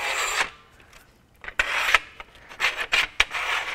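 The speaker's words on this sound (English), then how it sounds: "we're going to slide those brackets in place" Metal brackets scrape and slide into the rail track of a BAK Revolver X2 tonneau cover on a 2016 Toyota Tacoma, with close, uneven rasping rubs and sharp knocks in irregular bursts.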